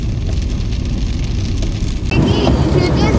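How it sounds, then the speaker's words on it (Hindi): Heavy rain drums steadily on a car travelling a highway between Patiala and Ambala during a thunderstorm with lightning. The hiss is loud and constant, and grows stronger and brighter partway through. "तेज बारिश हो रही है पूरे रास्ते में, एकदम तेज बारिश है।"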